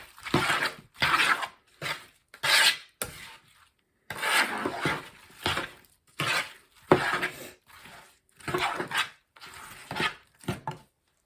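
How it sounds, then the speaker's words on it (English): A spoon scraping and stirring an apple pie mixture in a bowl, a series of short rhythmic gritty strokes with brief gaps between them, close and fairly quiet, with no talking over it. "if you use little chunks and stir it at a time, then you can see about how much you are getting into there"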